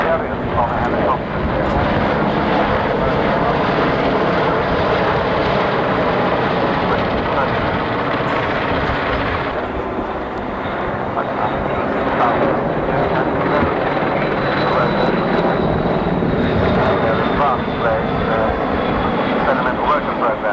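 Black Hawk helicopter flying at the 1990 Farnborough Air Show, a loud continuous rotor and engine roar that holds steady throughout, with a faint rising whine in the second half.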